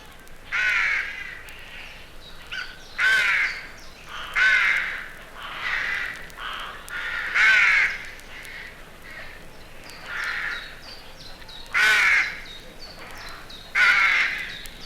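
Rooks caw repeatedly in loud, harsh bursts spaced a second or two apart, with several birds calling in an open garden or suburban setting and no other sounds intruding.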